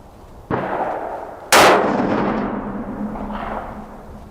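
A 6.5mm Creedmoor rifle fired into a dirt berm at an outdoor range: a softer thump, then one sharp, loud report with a long echoing decay rolling off afterward.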